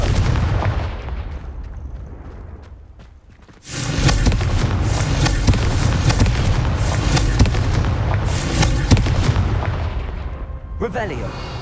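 Repeated Confringo fire-spell blasts from the game Hogwarts Legacy, smashing vases in a dense, loud run of booming bursts and crackles after a quieter opening, ending with a brief magical whoosh.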